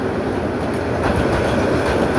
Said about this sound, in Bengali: ট্রেনটি ভৈরব বাজার জংশনের 2 নম্বর প্ল্যাটফর্ম প্রবেশ করেছে